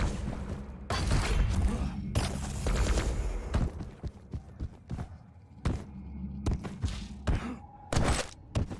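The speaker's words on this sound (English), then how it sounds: "The rockets are phenomenal, doing a lot of damage over in the T-Con." Rocket launcher fire and explosions in a fast arena shooter duel, with repeated loud blasts, thuds and weapon clatter in bursts, close and dominant throughout.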